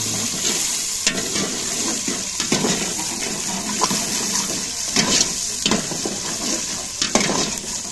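Masala sizzles steadily in hot ghee in a pan while a spoon scrapes and stirs it in repeated strokes, close and continuous.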